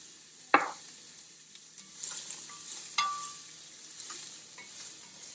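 Vegetables for a chicken and corn chowder sauté in a pan over medium-high heat, a faint low sizzle with a sharp clank at the start and intermittent quiet stirring scrapes, no speech.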